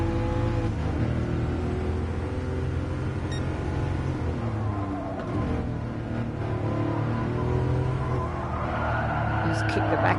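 A Porsche in GT Sport slides with a long tire skid under a steady engine drone, the squeal running continuously at a moderate level while a person talks over it.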